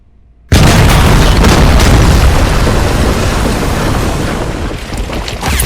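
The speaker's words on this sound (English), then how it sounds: "Hay bombasına ya, hay bombasına ya, patlayıp duruyorsun." A bomb blast in RoboCop: Rogue City hits suddenly after half a second of silence, then rolls on as a loud, sustained rumbling roar that fills the rest of the clip with little letup.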